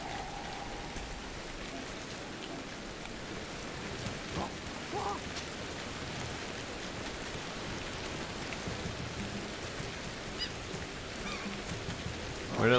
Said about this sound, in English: It's raining. Loud.